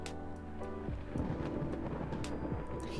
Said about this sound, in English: I'm scared of the lightning.